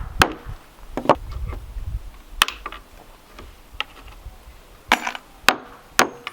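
Hammer blows drive nails through a wooden pallet plank to push the nail heads out the other side, sharp separate impacts landing irregularly, some close and loud with short gaps between.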